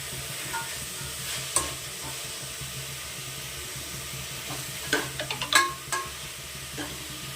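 Tomatoes cook with masala in a pan, a low steady sizzle with a few sharp spoon scrapes and taps clustered near the end, no voices.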